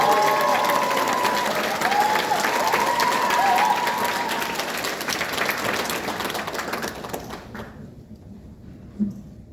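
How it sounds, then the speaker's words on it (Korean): Applause from an audience at a lecture in Goheung County, honouring the county governor, loud and sustained for about seven seconds before fading into a quiet hall with a faint thump near the end. "여러분 동의하시면 군수님께 박수 한번."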